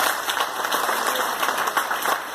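A church congregation breaks into applause during a sermon. The clapping is a thick, continuous wash that stays at a constant level, with no voices over it.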